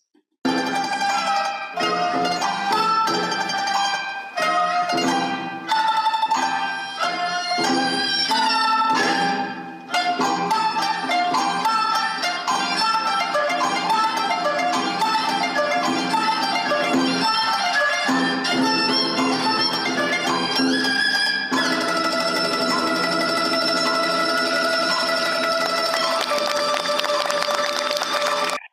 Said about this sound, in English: what you're hearing here is actually a wonderful display of